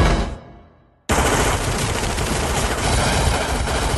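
Cartoon gunfire in an animated show: a long, loud, continuous burst of rapid shots that starts abruptly after a brief fading sound and runs unbroken to the end.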